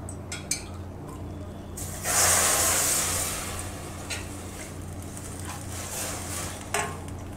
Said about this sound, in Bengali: এখন আমি কড়াইতে জল দেব।